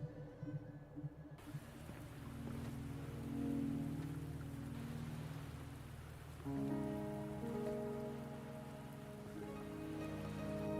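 Steady rain falls in the video game Wuthering Waves, a constant dense patter with low rumbling beneath. A layer of sustained music tones plays over it and shifts partway through.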